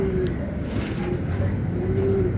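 Pigeons cooing inside a large loft, soft repeated low coos drifting over a steady background hum, fairly close but gentle, with faint voices now and then.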